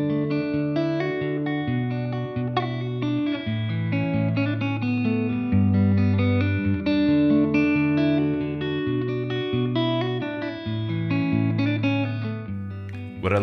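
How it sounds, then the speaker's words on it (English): Common chord voicings are picked one note at a time on an electric guitar, making a gentle, continuous arpeggiated pattern. Notes overlap and ring softly up close, with no talking. "Pick my way through it in an effort to create some sort of delicate impact like the original"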